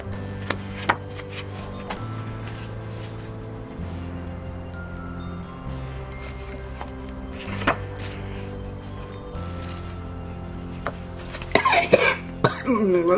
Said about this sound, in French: c'est moi qui vais tousser